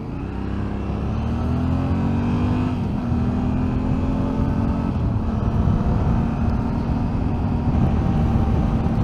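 Yamaha Tenere 700 motorcycle fitted with a Puig tall screen, ridden at speed and heard from the rider's position: a loud steady engine drone with rising tonal whine under heavy wind rush, continuous and without speech.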